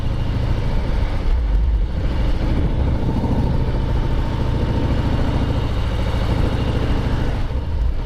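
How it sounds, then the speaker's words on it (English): Harley-Davidson motorcycle with a 107 cubic inch Milwaukee-Eight engine cruising in fifth gear, a steady low chugging rumble that holds loud and even for the whole stretch. "this 107 cube Milwaukee 8 engine. It just chugs along beautifully"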